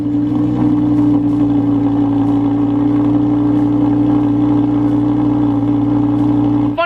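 A Lamborghini engine running loud and close, holding a steady, deep idle with a strong low drone throughout and no voices, ending with a brief change in tone.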